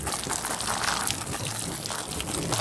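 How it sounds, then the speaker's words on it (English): Water splashes steadily over a silicone item as it gets a final rinse outdoors on a trampoline, a close, continuous pouring and spattering sound with no talking. "And so now I can give that one final rinse"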